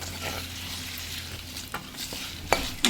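Spices and hing (asafoetida) powder frying in hot oil in a pan, a steady soft sizzle with occasional scraping stirs and a couple of sharper clinks near the end.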